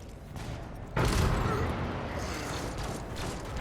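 A melta gun shot in Warhammer 40K: Rogue Trader, a sudden loud roaring blast that erupts and then sustains as a dense rushing burn, alone with no talking over it.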